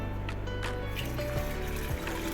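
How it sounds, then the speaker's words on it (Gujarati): Drinking water poured into a four-year-old clay pot on a stand, a soft steady trickle and gurgle of liquid filling the vessel, faint and close. "હવે આપણે પીવાનું પાણી તેમાં ભરી લેશું"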